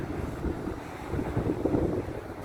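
Steady gusting wind buffets the microphone beside Cumberland Lock in Bristol's Cumberland Basin, a continuous low rumbling roar with surging peaks and no voices.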